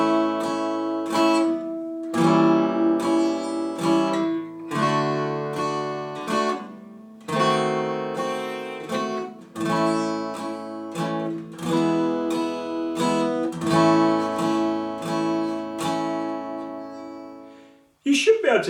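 A guitar plays a chord sequence using diminished seventh chord substitutions, with about a dozen strummed chords ringing out in a steady rhythm, clear and close, played alone without talk.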